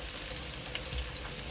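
A spoonful of onion frying in a pan for lumpiang sariwa, a faint, even sizzle with light crackles, heard close with no talking.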